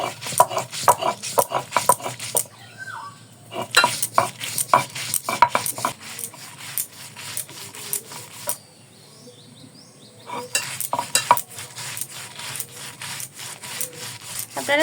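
Lentils ground by hand on a stone into a dry paste with no water, giving repeated rough scraping and rubbing strokes in bursts, close and fairly loud, with brief quieter pauses between sessions.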